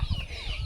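Native farm hen clucking close by in a short burst of low, throaty notes, with no talk over it.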